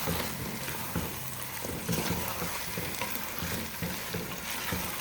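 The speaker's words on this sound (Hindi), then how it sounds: "चिकन को भी हम साथ ही अच्छी तरह से फ्राई करेंगे प्याज़ों के साथ।" Chicken frying with onions for a chicken biryani, heard as a dense, continuous sizzle and crackle with stirring throughout.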